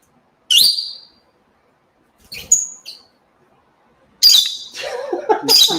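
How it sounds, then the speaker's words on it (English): Pet bird Pistachio lets out a few sharp, high, angry squawks and whistles in separate bursts, with a longer noisy burst of calling near the end, loud and close in an otherwise quiet room. "Does the bird sound like he's an octave higher tonight?"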